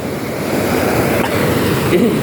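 Big ocean waves churn in a steady, loud roar of surf and wind along the shore of Palawan as a typhoon passes, a continuous rushing wash close by, with no talk over it.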